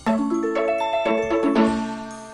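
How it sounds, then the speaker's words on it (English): A short, bright melodic Old School RuneScape cooking level-up jingle (alternate version) of layered chime-like tones rising through a few quick notes, then ringing out and fading over about two seconds. "it is far more common to hear the alternate jingle for cooking"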